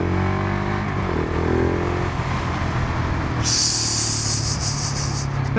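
A 2019 Husqvarna 701 SuperMoto motorcycle accelerates on a test ride, a loud close engine drone under heavy wind rush, with a bright hiss rising partway through.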